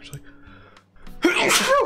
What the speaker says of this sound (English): You just sneezed too?